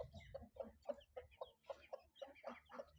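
Spotted hen with newly hatched chicks clucking close by, a steady series of short, evenly spaced clucks, fairly quiet, with soft peeping underneath.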